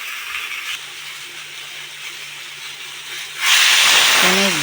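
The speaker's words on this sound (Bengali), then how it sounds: "তারপর আমি এর মধ্যে জল ঢেলে দেবো।" Water poured into a pan of frying ridge gourd being cooked for a fish curry, bursting into a loud steady sizzling hiss after a quieter stretch of frying.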